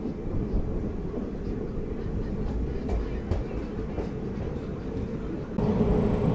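Seshadri Express passenger train running, a steady loud rumble of wheels on rails with faint rhythmic clatter throughout, swelling slightly louder near the end, with no talk.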